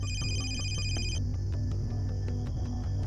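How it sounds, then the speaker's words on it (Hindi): An electronic phone ring trills briefly at the start, then fades into a low steady hum with faint repeated clicks. "फोन बजने की आवाज।"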